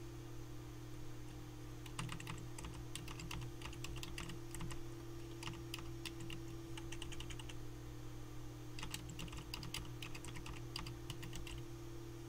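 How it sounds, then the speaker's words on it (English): Keys clatter on a computer keyboard in two bursts of quick typing separated by a pause, soft and close over a steady electrical hum, with no voices. "So when you want to add the link, you type something here."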